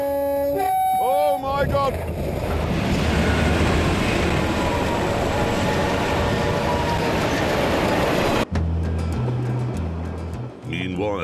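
A train passes close by with a loud sustained rumble and roar lasting several seconds, cut off abruptly, with a horn-like toot and a voice at the start.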